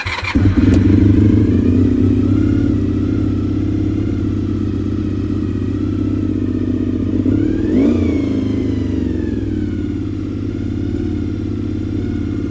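A Honda VFR400 NC30 motorcycle engine starts with the choke on and settles into a loud, steady high idle, with one short rev partway through, close and without talk.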